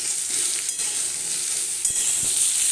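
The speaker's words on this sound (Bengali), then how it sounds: "এটার সাথেও আমি একসাথে এটাকেও একটু ভাজা করে নিচ্ছি।" Lentil fritters frying in a pan with a small chopped tomato mixed in give a loud, dense, continuous sizzle, close and steady, with a couple of soft stirring knocks and no talking.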